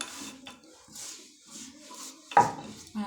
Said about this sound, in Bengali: এখন আমি মরিচ বাটবো